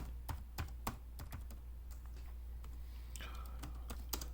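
Rapid typing on a computer keyboard, a steady run of close, crisp key clicks with short pauses over a low background hum.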